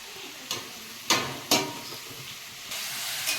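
Potatoes stir-fried with chilli powder and green chillies in a pan, a soft steady sizzle broken by a few sharp scraping stirs of the spatula, close and moderately quiet.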